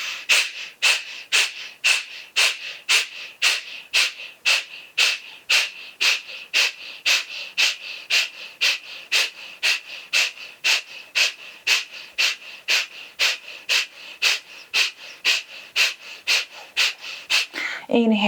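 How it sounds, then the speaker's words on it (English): Rapid, steady Kapalabhati yoga breathing during a detox yoga session: about thirty forceful, evenly spaced nasal exhalations, loud and close, ending with a brief voice. "Ready? Let's go. Kapalabhati."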